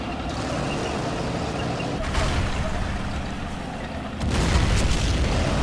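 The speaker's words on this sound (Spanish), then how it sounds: "Me han disparado un lanzacohetes" A rocket launcher blast in the Men of War game, heavy booming impacts over a dense rumbling battle bed, with a louder burst near the end.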